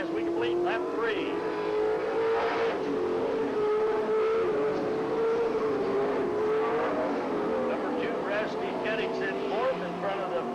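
Race cars circling a track during a race, a dense, continuous engine roar with rising and falling pitch as cars rev and pass, loud and steady throughout, with an announcer talking over it.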